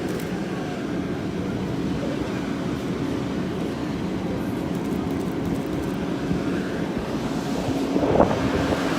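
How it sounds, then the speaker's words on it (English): Strong wind roars steadily across the microphone at an outdoor building fire on University Avenue in Saint Paul, a continuous broadband rush with a brief louder gust near the end and no talking. "it's really windy over here"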